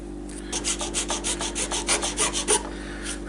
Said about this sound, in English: I'm going to go ahead with the rounded file and open up these areas over here